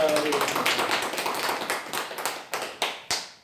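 Applause and rhythmic clapping from a church congregation during a Sunday worship service, a series of sharp claps fading in and out over a speaking voice, ending in a few louder separate claps.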